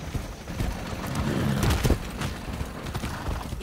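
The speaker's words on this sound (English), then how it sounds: "Don't run off my horse." Horse hooves clip-clopping in the video game Far Cry 6, a quiet run of rhythmic hoof strikes over a low game ambience, peaking briefly midway.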